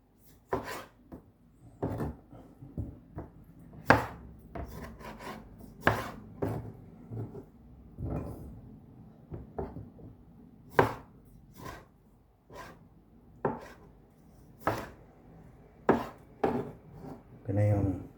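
A sharp kitchen knife chops tomatoes on a cutting board: crisp, close knocks come in uneven bursts and short runs, with quiet pauses between groups and no talking.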